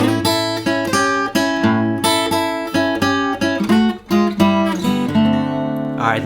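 Acoustic guitar plays an opening twelve-bar section as an old-school blues pattern, steady strummed and picked chords in a loping rhythm, close and loud, with no voices.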